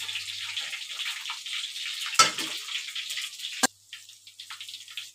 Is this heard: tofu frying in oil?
yes